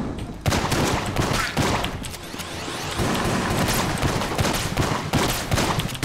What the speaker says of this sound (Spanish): la pinche escopeta de los mares